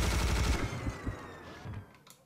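Rapid sustained gunfire from a minigun in the first-person shooter Serious Sam HD: The First Encounter, a dense, loud mechanical burst that eases off into scattered shots and fades over about two seconds.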